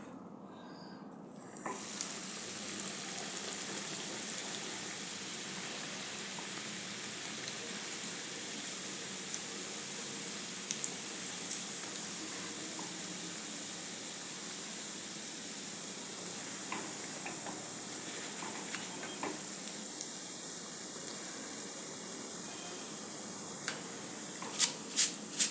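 Poha (flattened rice) fries in hot oil for chivda, a dense, steady sizzle and hiss that continues throughout, close and fairly even, with a few faint clinks of utensils near the end.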